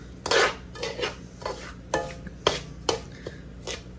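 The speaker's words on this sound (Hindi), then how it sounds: "सूजी हमारी भून रही है अभी" Semolina roasting in desi ghee for panjiri, stirred in a pot with a spoon, making a series of sharp scraping strokes roughly every half second over a soft, low sizzle, heard close up.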